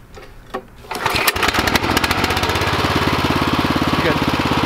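A small engine on a farm catches on its pull start and settles into a loud, steady, rapid chugging run, close by, with brief talk before it fires.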